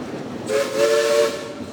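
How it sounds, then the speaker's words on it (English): A steam train whistle at Silver Dollar City sounds in short tones, bright and fairly close, over a low rumble of background noise. "I need 3 toots on that whistle, please."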